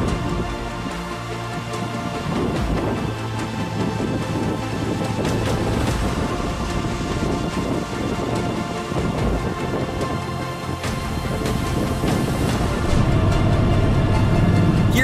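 A thunderstorm roars with steady heavy rain and low rumbling thunder, a dense, continuous wash of sound that stays loud throughout, with a deeper rumble swelling near the end and no voices.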